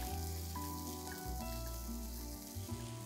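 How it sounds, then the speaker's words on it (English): Chopped tomatoes and garlic sizzling in a pan while cooking for a dhaba-style aloo gobi sabzi, a steady, close frying hiss with no talking. "Let these tomatoes cook till they are nice and soft."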